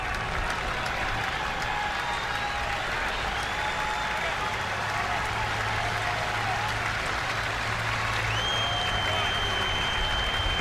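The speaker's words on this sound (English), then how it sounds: "Crowd riding with every pitch here." A sellout baseball stadium crowd at Steinbrenner Field, Yankees versus Rays, applauds and cheers in a steady, dense wash of noise that runs throughout, with commentary voices heard over it.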